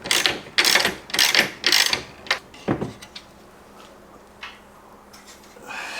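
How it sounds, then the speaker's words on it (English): A ratchet tightening roof rack bolts, several quick rasping clicking bursts up close, then a few lighter scattered clicks and handling noises fading into quiet. "we're going to go ahead and tighten these bolts down"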